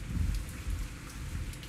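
A rainstorm in the zombie survival game Zafehouse Diaries: steady, dense rain patter with low, rolling thunder rumbling underneath, with no voices.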